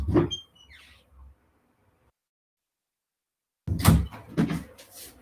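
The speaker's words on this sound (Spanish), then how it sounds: "tuve que abrir la puerta porque quería salir la gatita" A door opened to let a cat outside, heard as a short knock and creak at the start, a brief silence, then louder clunks and rattling as the door moves and shuts nearby.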